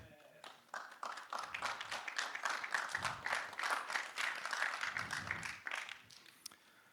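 A conference audience at an API talk claps for a few seconds, the applause rising after a brief pause and fading near the end, heard from within the room at moderate volume.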